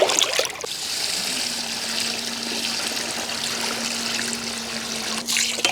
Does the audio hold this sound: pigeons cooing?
no